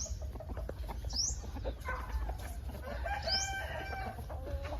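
Young fighting roosters crow and cluck in a farm setting, with two rising crows and several bursts of clucking over a steady low rumble of background noise.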